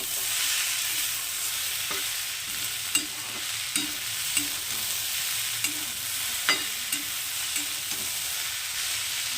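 Freshly picked Malabar spinach being stirred in a hot pan, with a steady close sizzle and repeated scraping clacks of the spoon against the pan at irregular intervals.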